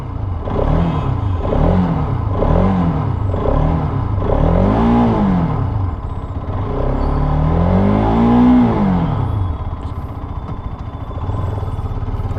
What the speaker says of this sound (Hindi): स्टार्ट करके पहले मैं इंजन का साउंड सुनाता हूं